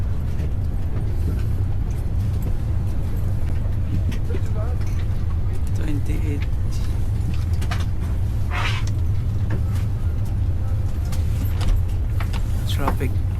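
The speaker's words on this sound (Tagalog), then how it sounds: "Traffic." Road traffic heard from inside a car in Malaysia near the airport: a steady low engine and road rumble fills the whole stretch, with occasional faint clicks and rattles inside the cabin.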